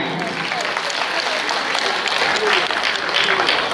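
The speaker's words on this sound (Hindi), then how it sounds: "सभ्यता गोस्वामी के लिए जोरदार तालियां" Audience at an awards ceremony in a Bhilai arts hall giving loud applause for a child, a dense, sustained wave of clapping with crowd noise and voices mixed in.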